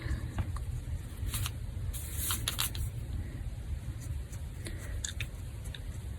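Scissors snipping out a stamped paper image for a greeting card, a series of soft, quick cuts and paper rustles close by over a low steady background hum.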